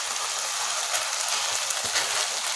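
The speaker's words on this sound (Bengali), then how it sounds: "আমি চালটা ভালো করে 3-4 মিনিট ভেজে নিলাম।" Rice sizzles steadily in a hot pan while being fried for palong rice, a continuous close hiss with faint stirring ticks.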